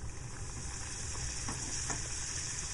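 Singaras fry in warm soybean oil, a soft steady sizzle and bubbling close by with a few faint stirring touches, no one speaking.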